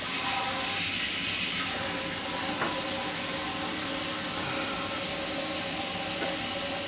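Water runs steadily from a tap for a rinse of homebrewing gear for an orange and blueberry wheat beer, a continuous broadband rush at close range with no talking.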